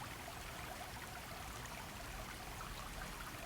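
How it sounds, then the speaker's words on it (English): Steady broadband rush of flowing water, like a mountain stream or fountain, continuous and even throughout with no voices. "Listen to the sound of the water flowing, dancing, rushing, a beautiful and relaxing sound."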